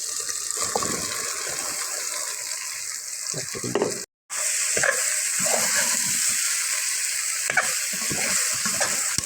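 Soybeans swished and washed in hot water for a soya cooker biryani, a steady close splashing and gushing wash with scattered clinks, one brief break near the middle, no talk.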